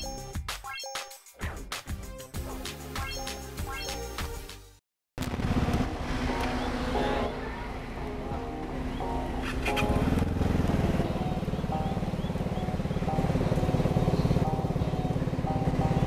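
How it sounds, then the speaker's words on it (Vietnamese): A modified Vespa Sprint scooter starts up: a few sharp clicking and cranking sounds, a brief silence, then the engine catches and runs with a steady, warm, throaty idle that swells slightly louder toward the end. "bây giờ dắt Huy sẽ nổ máy cho anh em nghe thử cái âm thanh của chiếc Vespa này"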